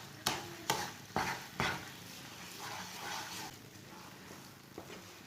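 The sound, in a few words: stirring phool makhana halwa with sugar in a pan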